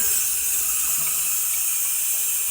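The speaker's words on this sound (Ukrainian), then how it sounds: "І тому беру просто з крана" Water runs steadily from a kitchen tap in an apartment, a continuous close hiss and splash with no voices.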